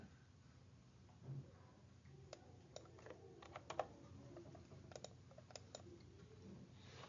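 Typing on a computer keyboard: scattered quiet key clicks in short bursts, faint against a low room hiss, with a few slightly louder taps.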